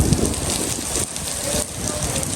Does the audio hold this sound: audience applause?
no